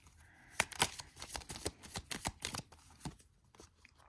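Tarot cards riffle and slap in quick, crisp bursts of shuffling, close and fairly quiet, with a few pauses between handfuls.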